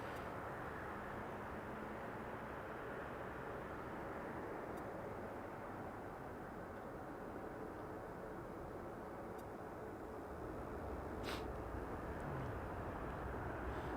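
A Hawaiian Airlines Airbus A330 taxis at Las Vegas Harry Reid International Airport, a steady low engine rumble and broadband roar heard from a distance, unbroken and without voices.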